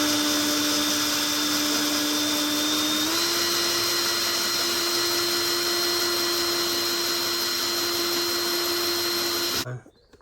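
A power drill bores holes into a table inside a Bailey Autograph 79 caravan, giving a loud steady whine that shifts slightly in pitch partway through and cuts off sharply near the end.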